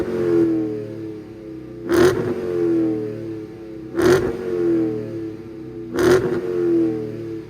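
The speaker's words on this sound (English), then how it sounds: "Let me give you guys some revs." A 2023 Dodge Challenger Shakedown engine revved in four evenly spaced bursts about two seconds apart, each a sharp blip that settles into a rumbling idle between, loud and close with no talking.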